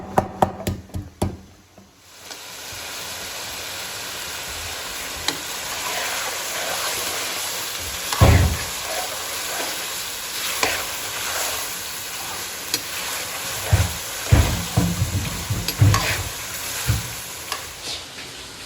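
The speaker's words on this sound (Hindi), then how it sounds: "अदरक और लहसुन कूट के वो भी डाला, और अच्छी तरह भुनाई करेंगे।" Crushed ginger and garlic fry in hot oil for chicken jalfrezi, a steady close sizzle with stirring scrapes and occasional knocks of a spoon against the pan.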